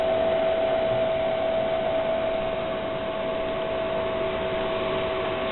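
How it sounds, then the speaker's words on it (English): The cooling fan of an HP server power supply, model PS-series, runs steadily, producing a constant whooshing hiss with a faint tonal whine that stays level throughout. "Fan kicked on."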